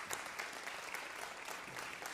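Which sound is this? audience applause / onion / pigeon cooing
audience applause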